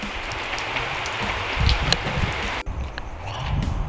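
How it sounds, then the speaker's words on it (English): Steady rain falls outdoors overnight, a dense, even hiss of drops on surfaces with a few brief knocks and shifts partway through. "Started raining."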